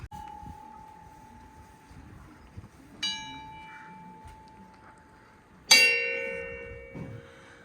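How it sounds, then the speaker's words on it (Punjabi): A few of the hundreds of bells in a wooden mountain temple in Himachal ring out clearly in a quiet space, one sustained tone humming throughout, then two brighter strikes that ring and fade slowly. "ਮੰਦਰ ਤੇ ਅੰਦਰ ਲੱਗੀਆਂ ਹੋਈਆਂ ਸੈਂਕੜੇ ਘੰਟੀਆਂ"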